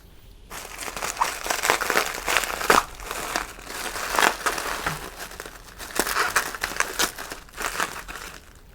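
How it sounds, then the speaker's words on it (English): Packing tape being pulled and peeled apart while lightsabers are unboxed, heard as close, continuous crinkling and tearing with repeated bursts of crackling packaging. "Tape's really easy to pull apart"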